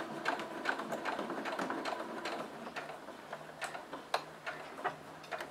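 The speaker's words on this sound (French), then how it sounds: "C'est parti pour ma surpiqûre, j'oublie pas mon point d'arrêt également au début et à la fin." A sewing machine topstitching fabric, with quiet, rapid mechanical ticking and clicking in an irregular run, faint and close with a low background hum.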